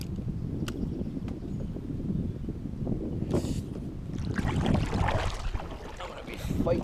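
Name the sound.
wind blowing while trolling from a boat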